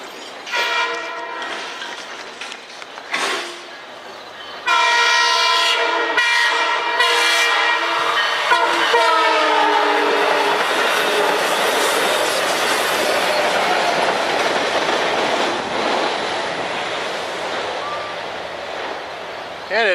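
A Long Island Rail Road train bound for Hunters Point Avenue, Long Island City, sounds several raspy horn blasts, then roars past loudly with a sustained rumble of wheels.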